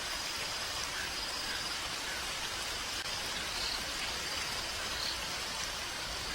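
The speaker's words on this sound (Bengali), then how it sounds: "বাইরে দেখেছো কত সুন্দর বৃষ্টি হচ্ছে?" Steady rain falling as a cartoon sound effect in a Bengali cartoon, a dense, even hiss of drops with no pauses or voices, moderately loud throughout.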